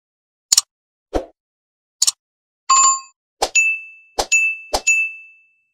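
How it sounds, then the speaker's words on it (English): A run of short bright dings and clinks, several in quick succession, the last few ringing out with a sustained bell tone; no talking. "that notification bell."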